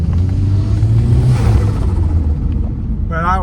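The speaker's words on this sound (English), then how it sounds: "I'm going to get onto a tidy road so I can accelerate" A Ford Escort RS 2000 with a forged turbo build accelerates along a road, its engine a steady loud rumble and drone heard from inside the car, with a brief voice near the end.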